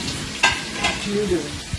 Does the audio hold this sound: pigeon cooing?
no